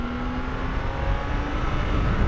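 A 2023 BMW K1600 Bagger touring motorcycle accelerating hard, loud continuous engine roar heard up close with heavy wind rush, no voices.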